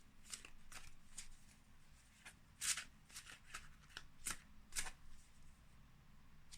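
Tarot cards are shuffled close by in a quiet room, a string of soft riffling and slapping bursts with short pauses between them and no talking.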